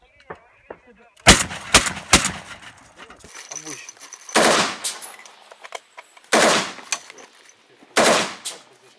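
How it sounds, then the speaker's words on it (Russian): Machine gun fire is returned at a combat position in Marinka, Ukraine, loud sharp bursts and single shots cracking close, separated by short gaps, with voices heard between them. "По нам сейчас ответно работает пулемет."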